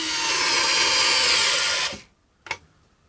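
DeWalt battery-powered screwdriver driving a screw into wood, a loud steady motor whir for nearly two seconds that cuts off abruptly, followed by a short clack of the tool.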